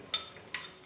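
A spoon stirs medicine powder into half a glass of water, giving two light, bright clinks against the glass about half a second apart, close and quiet, with no voice.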